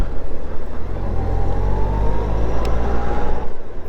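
A nimble sports motorcycle rides along with a steady, close engine drone and low rumbling road and wind noise that holds evenly throughout, with no speech.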